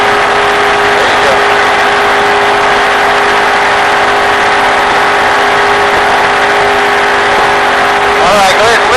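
Stock race car running wide open at full throttle around Daytona, a loud, steady engine roar heard from inside the car at about 85 mph, with a brief voice near the end.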